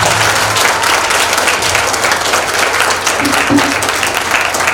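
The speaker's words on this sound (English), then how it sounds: "a big round of applause for all the participants" A school audience at a showcase event applauds the student performers, dense sustained clapping filling the hall at full loudness throughout.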